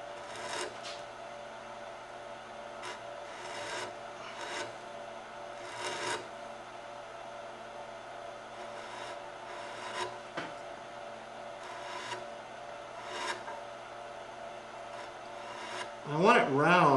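Gouge cutting into wood while rounding a carved ball-and-talon form, giving repeated short scraping strokes at close range in an irregular rhythm, with a brief louder rasp near the end.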